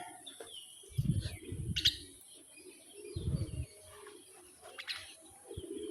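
A pet myna squawks and chirps in short bursts while being hand-fed, with a couple of low thumping handling noises beneath the calls and a faint steady hiss throughout.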